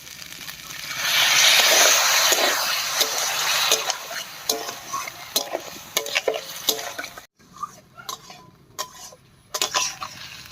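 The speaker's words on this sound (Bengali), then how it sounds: "এবারে সামান্য একটু জল দিয়ে আবার কষিয়ে নেব।" Papaya and fried potatoes in a curry pan burst into a loud hissing sizzle as a little water goes in, then settle into steady stirring with repeated sharp clinks of a spoon against the pan.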